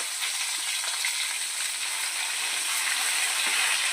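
Hot oil sizzles steadily as a tempering for drumstick leaf chutney is cooked, a dense, even crackle and hiss that holds close and constant throughout with no voices.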